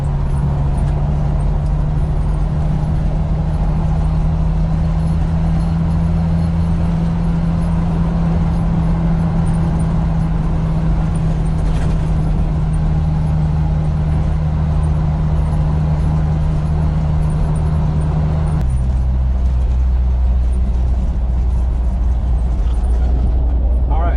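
A 1997 Jeep TJ's engine drones steadily from inside the cabin during a road test drive, with a continuous low rumble that shifts in pitch near the end.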